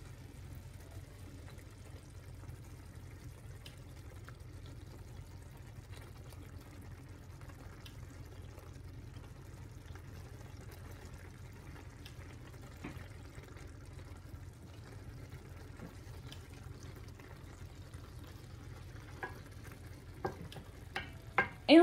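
Merguez sausages go into a pan of peppers and tomatoes for tchoukchouka, a soft, steady frying hiss with faint stirring, then a few sharper clinks and scrapes close by at the end.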